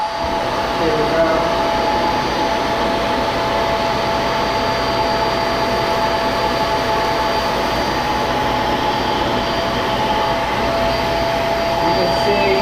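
A Hoover PowerDrive Pet vacuum cleaner runs steadily with its brush roll on, a loud continuous motor whine and airflow roar with a faint high tone throughout and no pauses.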